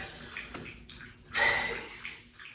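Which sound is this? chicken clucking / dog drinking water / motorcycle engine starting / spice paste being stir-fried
dog drinking water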